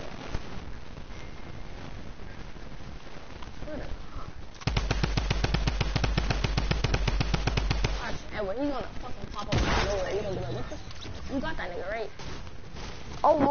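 Gunfire in a video game, with a rapid burst of repeated blasts in the middle and a few single loud shots later, amid fast talk between players.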